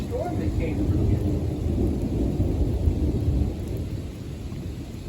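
A big thunderstorm with lightning rolls through, heavy rain pouring steadily while deep thunder rumbles loudly and continuously across the whole stretch.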